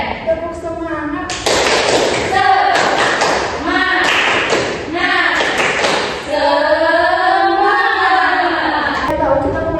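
A primary school class performs a tepuk semangat clap chant, children clapping in quick rhythmic patterns and chanting together in unison, loud and close, with short pauses between sections.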